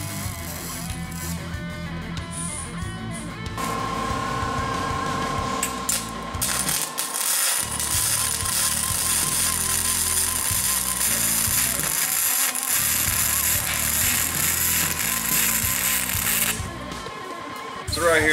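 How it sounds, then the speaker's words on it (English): A rotary wire brush on a power tool strips old paint from a rat rod chassis down to bare metal, giving a loud continuous grinding whir with short breaks and shifts in pitch as it presses on the steel. "all I'm doing is just clearing off some of the old paint that was on the chassis and using a wire brush to kind of get all that old paint off there"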